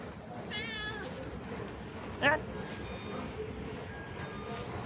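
A cat meows a couple of times amid steady rumbling background noise aboard a Marmaray train, the cry fairly clear and close.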